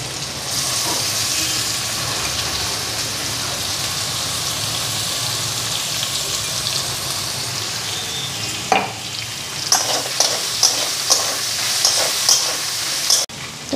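Ginger and garlic sizzle and fry in a pan with potatoes already fried, a steady close hiss with scattered stirring scrapes and taps toward the end, and no talking.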